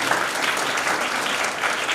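Audience applause at an annual function of NAB Uttarakhand, a steady, dense wash of many hands clapping close and loud throughout, with no talk over it.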